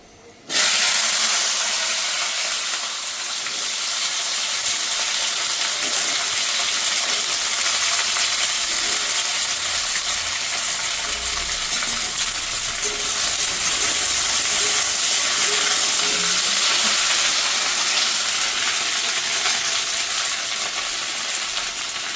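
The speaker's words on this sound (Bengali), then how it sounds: "তো আমি ভেন্ডিটাকে ভাজা বসিয়ে দেবো আগে" Okra (bhindi) frying in a hot pan in a home kitchen, an abrupt start into a loud, continuous sizzling hiss that holds steady up close for a long stretch, with faint clinks and no talking.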